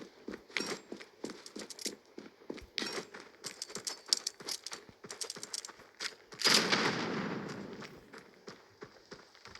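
Pistol fire in a shooter video game: bursts of sharp, rapid shots with short pauses between volleys, then a louder blast that fades over several seconds before single shots return.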